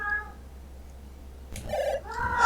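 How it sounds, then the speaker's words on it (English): A house cat meows a couple of times up close in a quiet room, short tonal cries near the end over a low steady hum, with no talk. "just meowing at me like he likes to do"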